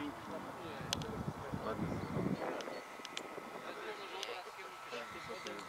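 A remote-controlled model airplane engine at a club airfield gives a faint, steady distant buzz, with wind noise over the microphone. People talk close by throughout.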